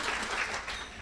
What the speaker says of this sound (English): what else do I have to say to get a clap